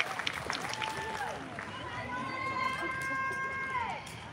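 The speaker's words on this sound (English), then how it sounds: "Let's give them a big round of applause" Parents applaud and cheer at an Alamitos Intermediate school graduation ceremony: a sustained wash of crowd clapping with scattered shouts and whistle-like calls, steady throughout.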